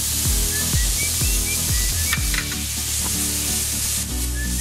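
Prawns with onion and garlic sizzle in olive oil in a pan for shrimp machboos, a loud continuous fry close by, while a low rhythmic knocking repeats in the background.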